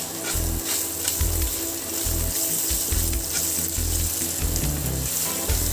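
Onions sautéing in a pan for ponnanganni keerai kadayal, a steady close sizzle with intermittent scraping and stirring clatter from a utensil against the pan, continuous and moderately loud.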